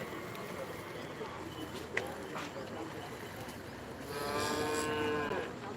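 A young calf lows near a cattle pen with people milling about, its drawn-out moo rising loud for about a second over a steady background of crowd murmur and scattered knocks.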